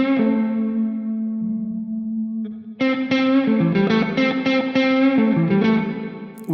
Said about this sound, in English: we actually hear a little more of our note bloom before the reverb kind of jumps all over it